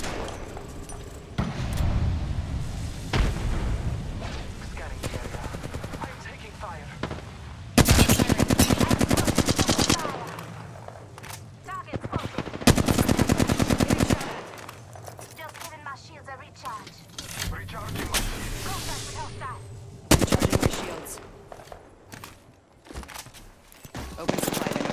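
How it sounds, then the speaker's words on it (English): Loud automatic weapon fire from the Apex Legends battle royale video game, several sustained bursts and rapid volleys with pauses between them, close and dominant, with faint game voice lines underneath. "Taking fire."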